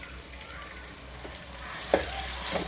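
Onion, tomato and ginger-garlic paste sauté in a hot pan with a continuous close sizzle, and a couple of brief spatula clicks come near the end.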